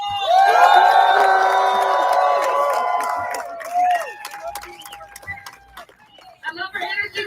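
A crowd at a live show cheers and shouts loudly together, with high whoops and yells that fade into scattered voices and claps before a fresh burst of shouting.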